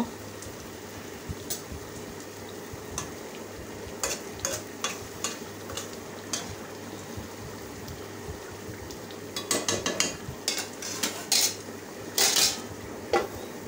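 A lid clanks onto a pan of simmering shol fish bhuna just after coriander leaves go in, with several sharp metallic knocks over a steady low sizzle.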